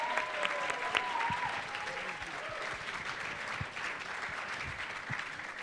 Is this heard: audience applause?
yes